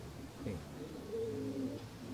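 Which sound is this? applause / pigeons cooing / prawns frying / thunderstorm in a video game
pigeons cooing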